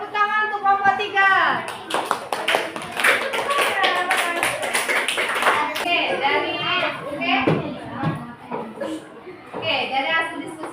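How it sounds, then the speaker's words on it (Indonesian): A fourth-grade elementary class applauds group 3, a burst of scattered hand claps mixed with children's voices and a teacher talking over them. "tepuk tangan untuk kelompok 3."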